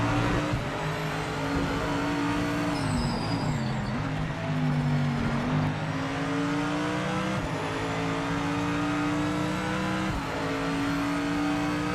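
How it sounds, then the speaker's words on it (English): Mercedes-AMG race car engine in the Project Motor Racing video game, a loud continuous roar with rising and falling revs through gear changes, close and alone with no talk. "This AMG sounds pretty damn good."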